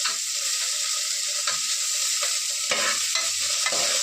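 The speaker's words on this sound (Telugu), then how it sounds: "ఉల్లిగడ్డలు వేగాలి." Onions frying and sizzling in a pan with steady stirring, a continuous close hiss broken by a few louder scraping stirs, no voices.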